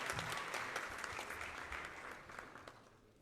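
An audience at a temple fundraiser in New York applauds in a dense round of clapping that starts full and slowly fades out.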